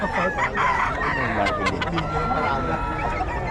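Rooster crowing and clucking nearby among other chickens, with people talking in the background over the calls.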